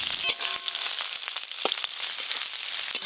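Chopped onions frying in oil for a small fish curry, a close continuous sizzle with a few clicks and scrapes of stirring.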